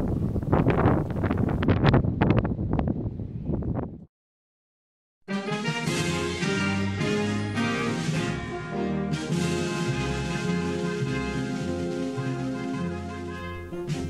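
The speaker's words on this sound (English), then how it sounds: "Did I mention it was cold and windy?" Rough wind buffeting the microphone for a few seconds, then a brief silence followed by steady music.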